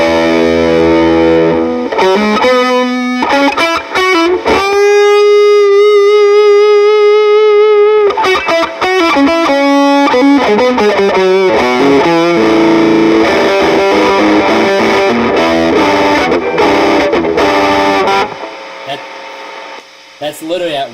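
Electric guitar through the MK2 side of a fuzz pedal into an already dirty amp, loud and heavily distorted, with sustained notes and chords ringing out and choppy strummed passages.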